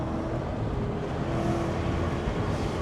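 A supercharged 630 bhp Audi RS4 Avant with a manual gearbox, its engine droning loudly and steadily from inside the car throughout a short stretch of driving, with no talk.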